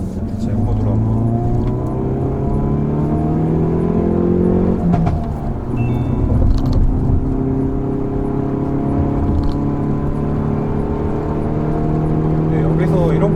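Hyundai Veloster N engine droning steadily as the accelerator stays pressed through a corner in city driving, harmonics rising and falling with load, a brief dip midway, then the pull resumes, loud and close from inside the cabin.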